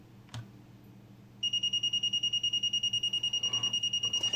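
Hioki DT4282 multimeter sounding its high-voltage warning above 1000 volts: a rapid, steady train of loud, shrill beeps starting abruptly and repeating evenly, close by over a faint background hum.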